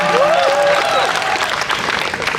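An audience at a college fest concert breaks into loud, sustained applause, with a brief whistle-like tone and crowd noise mixed into the steady clapping.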